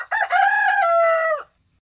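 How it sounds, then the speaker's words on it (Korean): A rooster crows a single loud cock-a-doodle-doo from a hen roost, a long rising then held call lasting over a second and ending abruptly, clear and close with no other sounds. "called out from the hen roost cock-a-doodle-doo"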